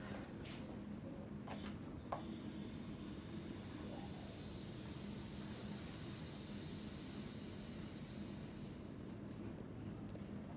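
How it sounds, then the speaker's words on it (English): Air hisses steadily back into a container in an air-pressure demonstration, a continuous broadband rush filling the whole stretch, close and fairly even, fading slightly near the end, with a few faint clicks early on. "that hissing you hear, is air going back into the container"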